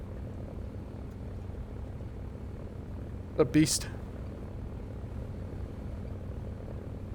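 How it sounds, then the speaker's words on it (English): Steady low engine drone of a WWII fighter plane in War Thunder simulator battles, an FW190 or Bf109, running continuously at moderate level beneath a man's speech, with a brief louder burst midway. "let me know if the engine's too droning, if it's too loud."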